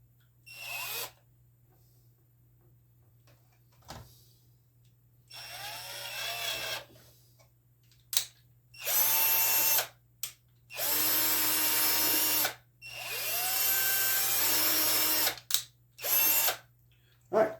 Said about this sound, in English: We're just simply going to drill a little hole through the center of this cutting board.